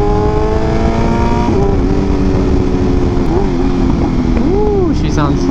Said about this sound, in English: I'm just enjoying this sound of the bike.